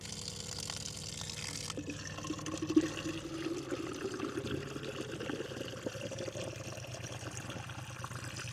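Water runs steadily from a roadside water source at a junction on the Karst plateau near Komen, a continuous splashing flow heard alone throughout.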